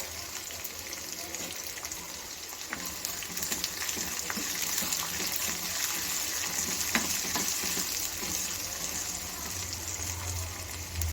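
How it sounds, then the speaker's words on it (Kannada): Onions sizzle and fry in hot oil with garlic, curry leaves and dried chillies for a raw mango rasam tempering, a steady close crackle with occasional stirring scrapes and no talk. "ಜೊತೆಗೆ ಈರುಳ್ಳಿನ ಹಾಕ್ಕೊಂಡು ಚೆನ್ನಾಗಿ ಫ್ರೈ ಮಾಡ್ಕೋಬೇಕಾಗತ್ತೆ."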